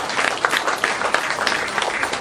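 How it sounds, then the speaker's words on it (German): Audience applause at a German carnival-style stage show, a dense, fairly loud burst of many hands clapping that fills the short span evenly without pause. "unter dem donnernden Applaus des Publikums"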